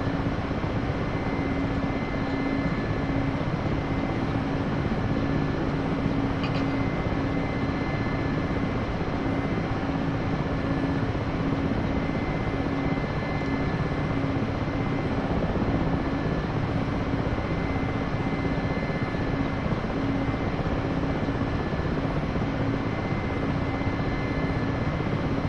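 A Mi-8 helicopter's engine and rotor in the DCS flight simulator make a steady, loud, unbroken drone and whine throughout, with no voices.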